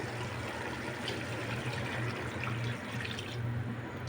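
Water is poured or run into a pan while making a rohu fish and potato curry, a steady close splashing flow throughout with no talking.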